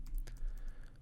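A few quick keystrokes tap on a computer keyboard, close and soft, in a brief, uneven burst.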